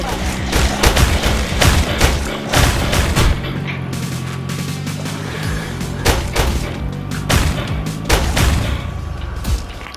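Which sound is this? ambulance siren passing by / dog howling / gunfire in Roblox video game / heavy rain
gunfire in Roblox video game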